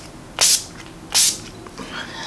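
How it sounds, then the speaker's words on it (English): Urban Decay De-Slick makeup setting spray is pumped onto a face in two short, close hissing bursts about a second apart, followed by quieter rustling. "I'm going to spray my face with the Urban Decay De-Slick spray"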